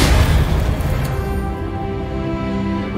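A Confringo blasting curse explodes in Hogwarts Legacy with a loud boom right at the start, then fades into a long, rumbling decay.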